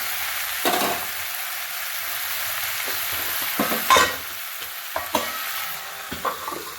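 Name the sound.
pork being stirred and sautéed in a pan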